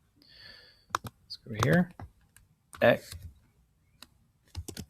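A computer keyboard clicks in short bursts as an algebra equation is typed into a graphing tool, with a person speaking briefly between the keystrokes in a quiet room.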